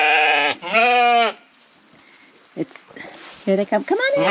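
A sheep on a farm gives one loud, drawn-out bleat. A person then calls to the flock, and short bleats or voice bursts follow near the end.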